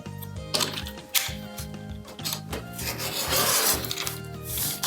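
Quilt fabric half-square triangles are cut along a line with rough, rasping strokes close up, repeating over several seconds at moderate loudness.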